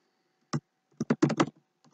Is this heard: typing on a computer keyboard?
yes